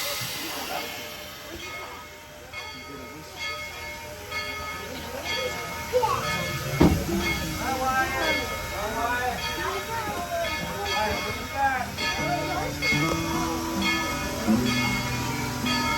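Tweetsie Railroad steam locomotive #190 running with a steady hiss and rumble, broken by a sharp bang and a rising chug as it pulls away, with whistle-like tones and a crowd chattering nearby.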